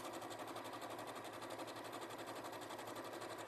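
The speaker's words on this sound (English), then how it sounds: "we get our longest stitch length and we do 2 line of stitches within the seam allowance" A sewing machine hums at a steady, even pace while running long gathering stitches through fabric, a continuous close mechanical whir without speech.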